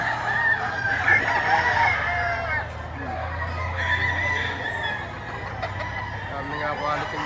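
Roosters crow repeatedly at an early-morning chicken market in Batangas, with clucking fowl and busy market chatter underneath, and a horse-like whinny briefly audible among the birds.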